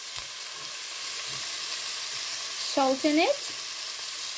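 Capsicum and spring onion fry in a pan as fried chicken noodles are cooked, giving a steady, close sizzle throughout with a short spoken remark near the end.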